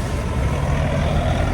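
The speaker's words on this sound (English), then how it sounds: "Let's hope I don't get hit by these stupid trucks." Trucks rumble past at a roundabout, a heavy, steady engine roar close by with no talking over it.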